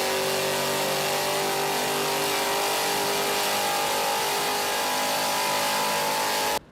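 An LS2 V8 engine revs loudly and steadily, a deep roaring drone with strong harmonics that holds throughout before cutting off abruptly at the end.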